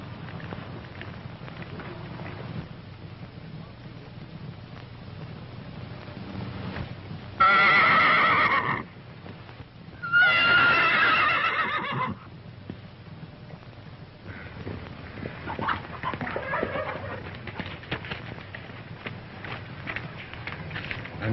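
A horse whinnies in two loud, drawn-out bursts, with hoof clip-clops and patter between and after them, in an old 1935 western film soundtrack.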